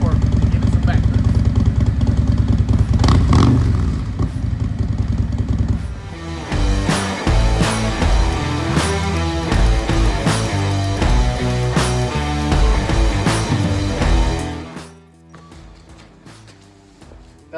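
Harley-Davidson motorcycle fitted with a Big City Thunder dual exhaust runs close by, a deep rumbling idle with an uneven, loping pulse that carries on steadily before dropping away near the end, with someone talking over it.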